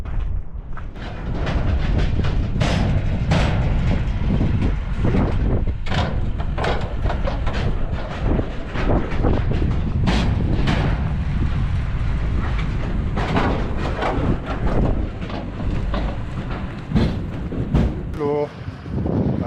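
A train rumbles steadily along the rails with rhythmic clacking and wind noise, while people talk over it throughout.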